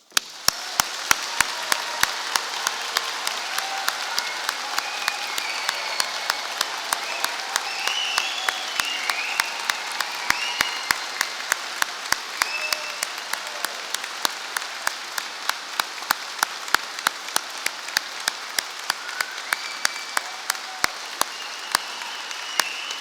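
A large audience applauds the graduates at a Poole university degree ceremony, a sustained, even round of clapping in a big hall lasting over twenty seconds without talk.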